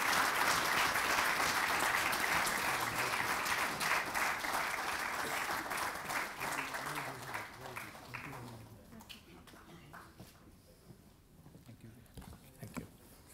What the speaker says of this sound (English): Please give him a round of a big applause.